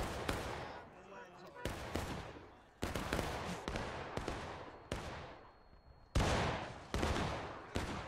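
Civil War battle scene with rifle gunfire, a string of roughly eight sharp, loud shots at uneven intervals, each ringing out briefly, with a shouted voice heard between blasts.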